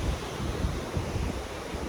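Ocean surf at Galveston, Texas, rolls in as a steady, broadband wash of waves, with wind buffeting the microphone throughout and no voices.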